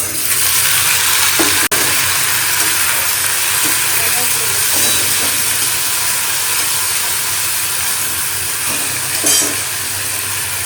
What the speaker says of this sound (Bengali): বরবটি আলু ভাজাটা চাপিয়ে দিলাম প্রথমে এখানে হচ্ছে পাঁচফোড়ন দিয়ে আলু ভাজাটা চাপাবো